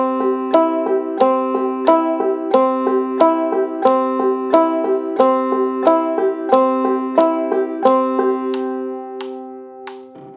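Bright plucked notes on a clawhammer banjo, strummed with downstrokes and fifth-string upstrokes, repeat in a steady, even rhythm. The notes stay loud and close, then thin out and ring down near the end.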